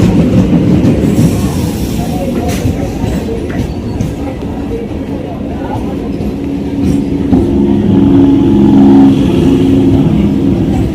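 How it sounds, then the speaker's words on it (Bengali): A Diamond Harbour–Howrah local train arrives with a loud, continuous low rumble and rattling wheels and carriages, swelling toward the end; no clear talk rises above it. "এখন শেষে আমার ডায়মন্ড হাওড়া ট্রেন চলে এসেছে"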